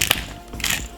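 A hand pepper mill grinding pepper over a chicken stew in a home kitchen, giving a short dry crackling burst of grinding, close and alone.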